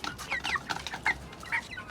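Native free-range chickens cluck busily while being fed, with a quick run of short, overlapping clucks and chirps close by against a quiet background.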